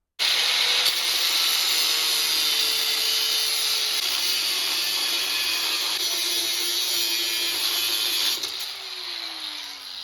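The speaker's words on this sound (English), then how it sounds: "while we got the grinder out, we'll go ahead and cut this monstrosity off." An angle grinder cuts a welded part off a 1989 Harley-Davidson Electra Glide, a loud, steady high-pitched whine with a shifting tone that drops slightly as the cut finishes.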